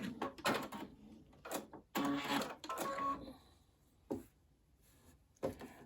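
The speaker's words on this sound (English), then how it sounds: "I'll sew it to show you." A sewing machine stitches a straight seam on quilt binding in quiet, close bursts of rapid mechanical whirring. Brief pauses fall between the runs.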